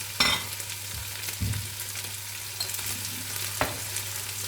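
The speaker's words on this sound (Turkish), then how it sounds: "Şöyle tuzumuzu karıştırıyorum." Salted potato pieces fry in an uncovered pan, a steady soft sizzle broken by a few scraping stirs and light utensil taps close by.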